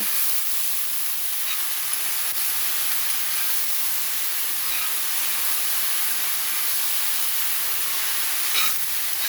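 Ridge gourd sizzling in a pan of fried onions as it is stirred, a steady, fairly quiet hiss that holds evenly throughout with no voices.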